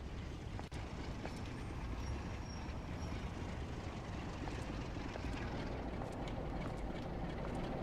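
An express train in Train Sim World 5 runs the West Coast Main Line North, giving a steady, dense rumble and rolling noise that holds at an even level throughout, with no voices.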